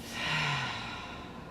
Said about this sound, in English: Find a breath in through the nose. And then breath out of the mouth.